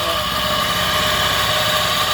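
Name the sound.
ice cream machine motor running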